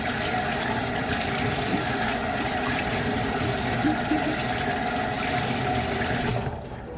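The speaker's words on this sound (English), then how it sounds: "So now I gotta wash my hands." Tap water runs steadily from a faucet while hands are washed, a constant close splashing hiss that stays loud and unbroken before easing off at the end.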